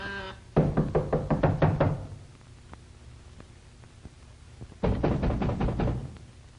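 Loud, fast pounding on a door in a 1933 film scene: a burst of about eight heavy knocks, a pause with faint taps, then a second rapid burst of similar knocks.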